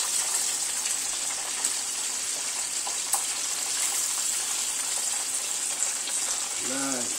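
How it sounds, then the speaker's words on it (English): Chicken pieces frying in hot oil in a pot, browning golden, give a steady, close sizzle with bubbling throughout, and a brief voice rises near the end. "Take some chicken, get a nice little golden brown."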